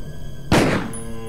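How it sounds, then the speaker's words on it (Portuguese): A single powerful magnum gunshot rings out in the PlayStation game Resident Evil Director's Cut, a sharp, heavy thump that decays quickly over a humming game background. "Deu um tiro de magno nessa bosta."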